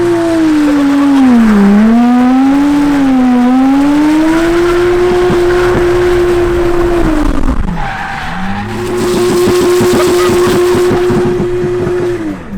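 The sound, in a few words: car burnout with tyres squealing at a drift day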